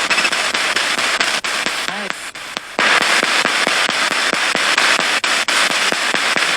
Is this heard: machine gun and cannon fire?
yes